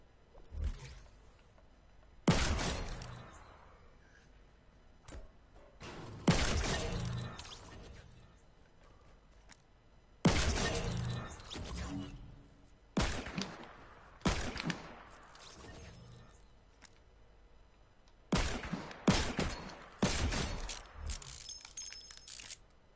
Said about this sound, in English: I'm having fun shooting these box. I'm doing double pump me.